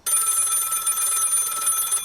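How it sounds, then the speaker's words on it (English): A telephone bell rings steadily for about two seconds, a bright, continuous trilling ring heard close and alone. "Answer that phone, George."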